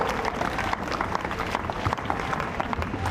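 Audience at a school speech competition claps steadily for a participant, a dense, continuous patter of many hands in a hall, moderately loud and unbroken for a few seconds.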